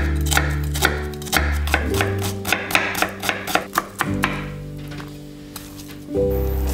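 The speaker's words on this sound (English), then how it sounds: "Cut the onion into small cubes." A knife chopping onion into small cubes on a board, a quick run of crisp, close cuts against a bed of kitchen noise and background music.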